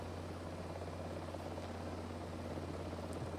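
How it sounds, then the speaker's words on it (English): Helicopter rotor and turbine drone from Microsoft Flight Simulator 2024, flying over Slovakia near an H125, a faint, continuous low thrum with a steady hum that runs unbroken and alone. "wondering what all these helicopters are doing over here."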